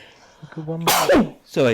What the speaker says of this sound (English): So I'm going to sneeze again.